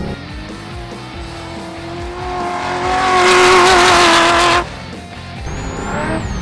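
A muscle car driving around a race track in second gear, its engine tone rising and holding as it accelerates, with tire squeal building loudly before cutting off, then the motor continuing at a lower pitch.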